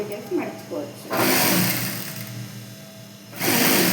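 Sewing machine stitching the folded hem of a half petticoat, running in two steady bursts with a pause between, close and fairly loud, with someone speaking over it.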